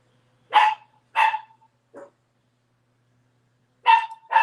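A dog barks indoors in five sharp, separate woofs, close but moderate in volume, with long silent gaps between them.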